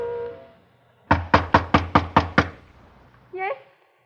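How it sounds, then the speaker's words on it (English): In a radio drama, seven firm knocks land on a door in a quick, even sequence, close and loud. A brief voice follows. "waiting for a knock that had to come"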